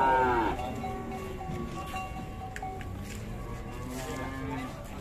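A cow moos once at the start, fairly close, then fades into quiet outdoor background noise with faint distant sounds.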